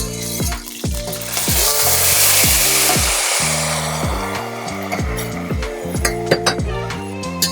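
A utensil stirs arborio risotto rice with squid ink in a hot pan, a steady loud sizzle laced with repeated metallic scrapes and clinks against the pan, no talking.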